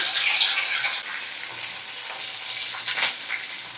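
Tomatoes and onions sizzle loudly in hot oil with curry leaves in a pan of fasa fish, a steady broadband frying hiss with brief crackles and spatters throughout.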